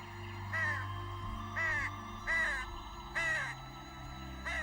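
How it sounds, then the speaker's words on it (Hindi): A flock of crows in a children's cartoon caws repeatedly, four or five loud harsh calls in an even rhythm over a low background hum. "इतने सारे कौवे।"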